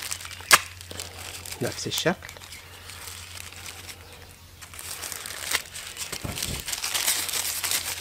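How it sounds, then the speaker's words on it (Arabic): An ordinary plastic bag crinkles and rustles in bursts as it is rolled up and pulled apart, close and fairly quiet, with a sharp crackle early on and someone talking over it. "هاخد الكيس العادي وهلفه وهبدا بعد كده افصله"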